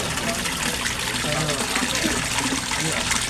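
An Aquaspeed submersible pump churns and bubbles water in a koi pond, a steady loud gushing wash that runs throughout with faint voices underneath.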